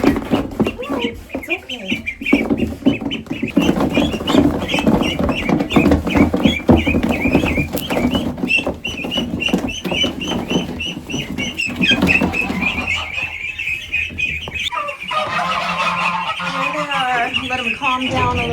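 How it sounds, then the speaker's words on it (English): Runner ducks being put into a coop, with busy, continuous quacking and honking from several birds close by, loud and overlapping for the whole stretch, and human speech mixed in at times. "Time to put these runner ducks in here."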